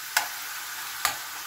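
Ground pork and green beans stir-frying in a pan: a steady, quiet sizzle with two sharp scrapes of stirring about a second apart.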